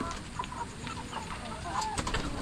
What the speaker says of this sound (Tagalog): makita nyo lang po yung mga manok nyo na ganyan, masayang masaya